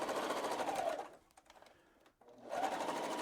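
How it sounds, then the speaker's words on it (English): A sewing machine stitching swimsuit fabric, running in a steady close whir, pausing briefly in the middle, then starting up again at the same pace. "Now watch, I'm going to sew."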